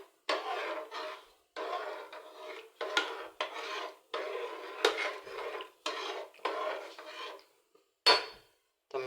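Khichdi being stirred in a pot with water, spices and salt, a spoon rasping and scraping against the metal in repeated strokes, each lasting about a second with short pauses between, close and fairly loud.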